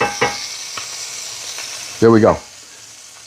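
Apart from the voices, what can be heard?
sautéing baked beans ingredients sizzling in a hot pan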